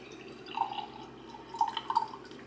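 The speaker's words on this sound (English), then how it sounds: "I'm gonna just pour this in her bottle and put this in the fridge" Fresh breast milk poured into a baby bottle makes two short bursts of gentle trickling and dripping, near and faint, with no talking.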